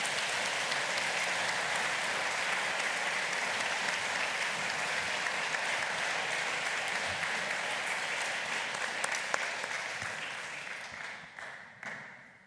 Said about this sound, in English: I think a warm applause for the panel